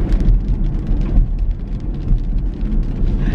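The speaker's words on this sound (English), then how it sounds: "Do you hear it right now raining?" Rain falls outside as a steady, dense hiss with a deep rumbling undertone, loud and continuous throughout with no voices.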